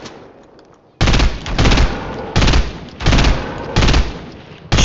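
Someone standing in place fires rapid, loud bursts of automatic gunfire in several volleys separated by short pauses, close and sharp.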